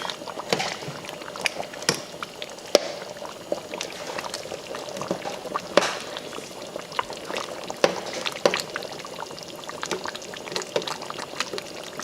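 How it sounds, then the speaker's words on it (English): Vegetable oil being added to a pot of Cameroonian/Nigerian pepper soup and stirred, giving a steady bubbling, sizzling simmer with scattered clinks and scrapes close by, no talking. "So add some vegetable oil. And I will stir it up."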